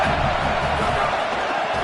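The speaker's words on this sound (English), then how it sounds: "Man, this crowd really affecting the football game." Home crowd at an Iowa college football game against Washington, a dense, steady stadium roar of cheering noise filling the air, loud and continuous.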